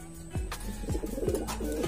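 A pigeon in a Filipino breeder's loft gives repeated soft, low cooing calls in a steady rhythm, close by and alone.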